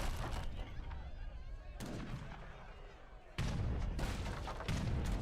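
Heavy cannon and culverin artillery fire in a video game battle among infantry and musketeers, with dense, continuous booming shots and sharp volleys that surge loudly at a couple of moments, sounding close and heavy.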